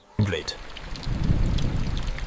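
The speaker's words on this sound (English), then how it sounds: "The open plains disappear beneath rain" Rainstorm sweeping over open African plains, a dense hissing wash of rain that swells after an abrupt onset and holds steady, with a faint low rumble beneath.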